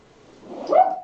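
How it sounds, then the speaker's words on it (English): A pet dog lets out a short yelp or whine that rises at the end of the second, fairly close, heard alone without anyone talking. "oh, I'm sorry, that's my dog"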